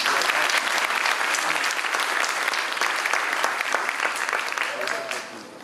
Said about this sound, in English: I would like to call a round of applause for Roshini's teachers and mentors